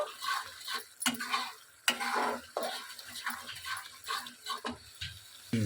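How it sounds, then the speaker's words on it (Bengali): Spiced masala for a country chicken curry is stirred and sautéed in a pan, with repeated spoon scrapes and taps over a light sizzle in an uneven, close rhythm. "এবার ভালো করে নেড়ে কষিয়ে নেবো।"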